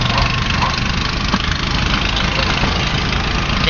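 Engine of a motor cab (motorcycle taxi) idling and running steadily at close range, a continuous low rumble throughout with no clear pauses.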